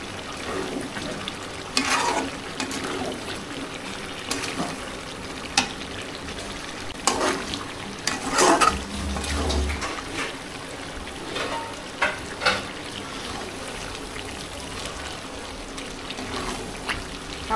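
Chicken wings, legs and skin frying with potatoes in their own released oil, with no water, while being stirred: a continuous close sizzle broken by repeated scraping strokes and clatters of the spatula at irregular intervals.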